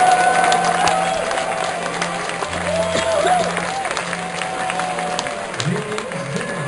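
Audience at a graduation ceremony applauding and cheering, a continuous crowd roar with clapping, while a voice speaks over it and a tonal announcement sound rises briefly.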